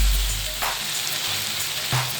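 Vegetables and potato pieces cook in a pan for a pulao, giving a steady low sizzle with faint crackles, alone and close by.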